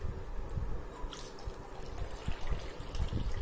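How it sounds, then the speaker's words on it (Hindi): Water is poured into a mixed yogurt and flour batter for fasting-style kadhi, a soft, steady liquid trickle and splash at close range with no talking. "इसमें पानी थोड़ा और डाल लेते हैं।"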